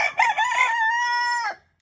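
A single rooster crows loud and close, one full cock-a-doodle-doo with a long sustained final note that cuts off cleanly, with no other sound around it.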